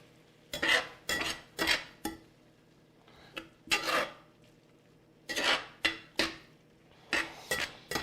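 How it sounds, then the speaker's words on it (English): Shepherd's pie filling stirred in a pan over medium heat, giving a series of short scraping and clinking strokes of a utensil against the pan in uneven bursts, fairly close, with quiet pauses between them and no talking. "We're gonna stir this together."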